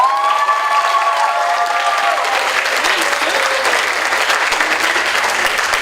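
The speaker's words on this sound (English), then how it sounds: "Everybody give Mrs. David a round of applause" A middle school speech contest audience applauds Mrs. David with steady, full clapping. A few raised voices ring out at the start, then the clapping continues evenly throughout.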